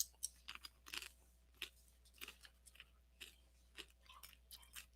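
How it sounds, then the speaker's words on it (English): Crunchy chips being chewed close to the mic, a steady run of sharp, dry crunches repeating every half second or so in a quiet room with no talk. "Chewing chips again."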